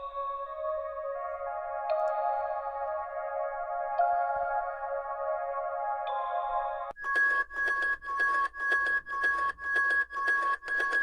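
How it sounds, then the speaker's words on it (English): Cute bell and pad ambience loops fill the background: sustained chime-like pad chords shift every couple of seconds, then give way to a rhythmic pulsing bell pattern repeating in even beats. "Just a lot of cute sort of bells and pads to fill up that the background"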